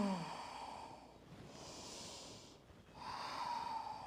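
Slow, deep breathing during a yoga trapeze exercise: a soft airy inhale and exhale, then another breath, quiet and close with no talk.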